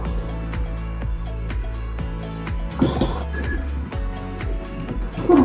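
Spoon stirring katila sherbet with black rock salt and sugar candy pieces in a glass, a quick run of bright repeated clinks against the glass, loud and close, with occasional louder knocks.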